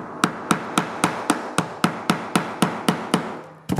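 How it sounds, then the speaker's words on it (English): Steady metal hammer blows striking a chisel driven into plywood, about a dozen sharp, evenly spaced knocks close by, ending in a quick double strike with no talking. "I do is with my hammer, I just take this"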